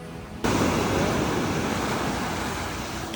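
Sea waves at Penang beach break in a loud, steady wash of surf that sets in sharply and rolls on continuously, with no voices over it.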